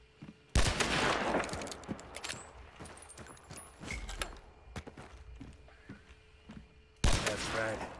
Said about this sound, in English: Now let's do some long-distance shooting.